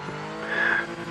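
A race car in the video game Project Motor Racing brakes and slows, its engine note dropping while a brief tire squeal rises midway through the short burst.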